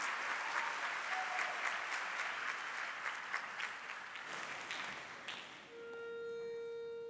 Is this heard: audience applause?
yes